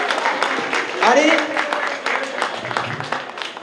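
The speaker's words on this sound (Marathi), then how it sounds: "सगळ्या लेडीजना जोरदार टाळ्या वाजल्या पाहिजे" Audience clapping at a Mangalagaur women's celebration in a Panvel housing society, steady scattered claps under a voice addressing the crowd.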